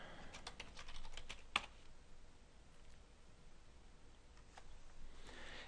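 Keys on a computer keyboard are tapped quickly as a username and password are entered, faint close clicks in short bursts with one sharper keystroke, no talk.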